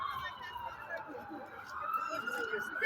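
Emergency siren from an ambulance at a street protest, a steady wailing tone running throughout under crowd noise and shouting voices.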